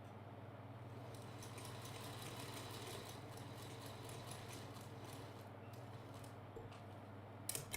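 A featherweight sewing machine stitches along a drawn line on fabric, a low, steady mechanical hum with rapid faint ticking of the needle running unbroken and fairly quiet throughout.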